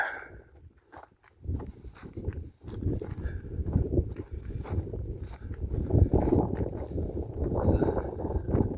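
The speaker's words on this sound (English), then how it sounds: "Very windy." Strong wind roars and buffets steadily at the Valley of Stones, a low rumbling gust that swells and persists, with faint footsteps crunching underneath.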